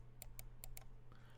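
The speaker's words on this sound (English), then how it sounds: "we have the left click and right click" Left and right buttons of a Vaxee gaming mouse clicking, four crisp close clicks in two quick pairs over a faint steady hum.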